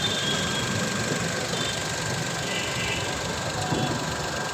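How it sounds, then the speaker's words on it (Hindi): A repaired car engine idles steadily at close range with a smooth, even drone and a faint knock under it, alone with no talk. "साउंड बहुत अच्छा है गाड़ी का।"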